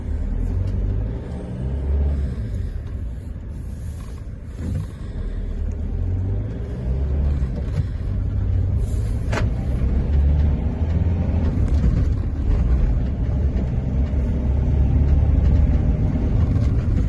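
A 2014 Peugeot Solway Spirit camper van with 53,000 miles on the clock is on the road, giving a steady, loud low engine and road rumble throughout with no talk.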